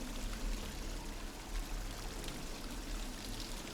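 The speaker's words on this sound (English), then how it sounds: "Just listen to the babbling brook." A babbling brook in the Garry's Mod video game gives a steady, close wash of flowing, trickling water with no voices over it.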